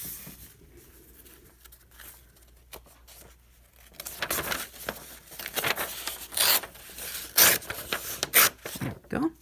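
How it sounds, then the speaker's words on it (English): Scissors cut a piece of hand-dyed paper in half, starting with faint rustles and a few soft ticks, then building into louder, crisp snips, crinkles and paper rubbing in close, irregular bursts. "I'm going to just cut a piece in half."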